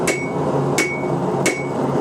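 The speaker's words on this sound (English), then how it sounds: "So I swap it from my 2-pound hammer to my 3-pound hammer." Three heavy 3-pound hammer blows ring out on steel being forged into a dagger at a steady, unhurried pace, each strike sharp and metallic with a bright lingering ring over a constant background roar.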